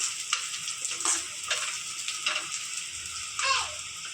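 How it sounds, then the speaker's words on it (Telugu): Frying in a pan for Andhra-style potato fry, a steady sizzle with bursts of crackle and stirring scrapes, fairly close and continuous, no voices. "పచ్చి వాసన పోయేదాకా వేగనిస్తే బాగా స్మెల్ వస్తుంది"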